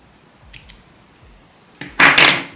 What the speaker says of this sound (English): now I'm going to cut off the yarn